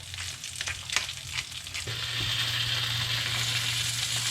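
Chicken fries in olive oil in a pan. A few clattering knocks come first, then a loud, steady sizzle fills the rest, with no talking.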